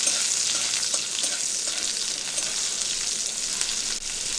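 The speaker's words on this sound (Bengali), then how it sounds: "পেঁয়াজটা একটু ভালো করে ভেজে নেব" Chopped onions frying in a little oil in a wok give a steady, bright sizzle that hisses continuously at close range, with occasional small stirring knocks and no talking.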